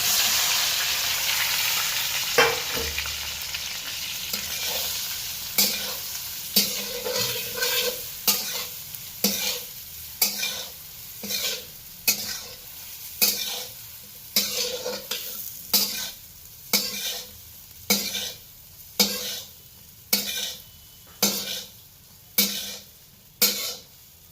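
Khaman dhokla pieces are stirred into a hot pan of tempering, a soft sizzle beneath a long run of regular spatula scrapes, about one every second, close and clear with no talking.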